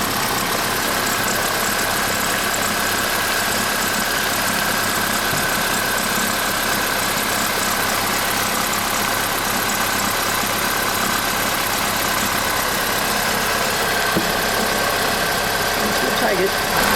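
A 2004 BMW 318i sits idling with a steady, dense engine hum that holds constant and close throughout, the idle settling slightly lower near the end.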